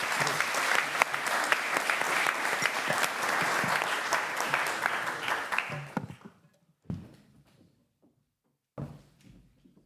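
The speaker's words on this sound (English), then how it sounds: "so applaud, please. They deserve it" A conference audience applauds a productivity forum panel, steady dense clapping for about six seconds before it breaks off into a few scattered claps and soft thumps in a quieter room.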